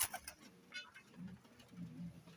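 Pigeons cooing close by, soft low throaty coos repeating in short phrases, with a few brief rustles at the start and no talk.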